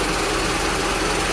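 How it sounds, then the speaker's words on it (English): A Mercedes SL320 R129 engine idles rough and misfires with the hood open, giving a loud, close, steady rumble with an uneven pulse and no talking. "So it's kind of running a little bit rough. The engine's moving a little bit. I think it's misfiring."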